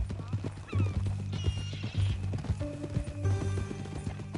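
Horse hooves clip-clop in a steady walking rhythm in Red Dead Redemption 2, close and clear, with a short whinny and game music and voices underneath.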